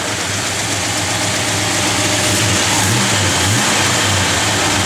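A 1969 Plymouth Road Runner convertible's engine, fitted with a Comp cam, rumbles loud and close, with a lopey idle that rises and falls through a few revs.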